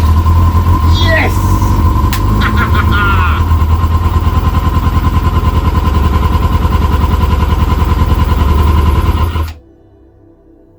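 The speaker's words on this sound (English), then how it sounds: "There's a bit of choke still." A Kawasaki ZX-6R motorcycle engine, revived after ten years and running on choke, idles loud and steady with a fast even throb for about nine seconds before cutting out abruptly to near silence.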